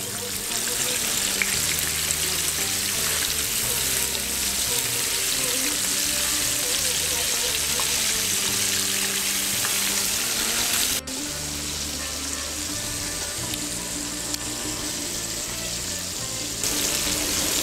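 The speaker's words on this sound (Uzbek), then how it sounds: "Bu balig'imiz 8-10 daqiqa qovuriladi." Fish fries in a pan with a loud, continuous close-up sizzle and crackle that holds steady throughout, briefly dipping once midway, with a faint tonal melody running underneath.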